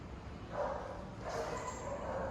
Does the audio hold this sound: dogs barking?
yes